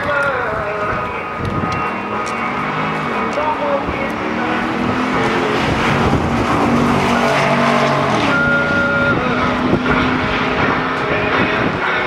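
A 1999 Pontiac Trans Am driving fast down a road: steady, loud engine roar with shifting pitch throughout, while people talk over it.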